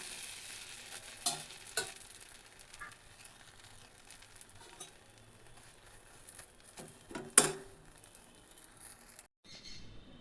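Oats idli cook quietly in a pan with a faint, soft sizzle, broken by a few scraping knocks as they are flipped over.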